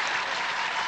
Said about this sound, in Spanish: El aplauso para Xenia.